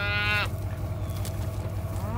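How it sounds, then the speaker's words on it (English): A single long, deep moo from a cow in a herd of Corriente cattle out in a field, loud and close, fading into low rumbling livestock noise and quieter lowing. "30 cows right here."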